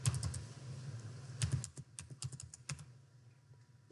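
Quick, quiet keystrokes patter on a computer keyboard as a student number and password are entered, close by, in short irregular bursts with no talking.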